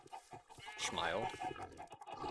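Chickens in the Minecraft video game give a short burst of clucking that peaks in the middle, a few quick, close, clear calls over a quiet background.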